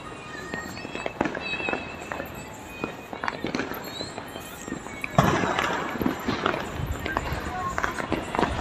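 Fireworks and firecrackers burst at a New Year celebration in Hyderabad, with scattered sharp pops and bangs at varying distances, some close and loud, over crowd noise and voices talking.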